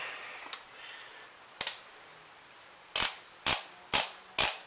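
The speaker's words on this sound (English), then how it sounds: "I'm just running my torque wrench back down real quick." Torque wrench on a Ford Ranger being wound back down, a few sharp, close clicks, the last four coming in an even, loud sequence after quieter handling noise.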